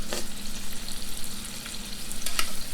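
Shrimp frying in a pan for firecracker shrimp, a loud continuous close-up sizzle with a few scraping stirs rising above it and no voices.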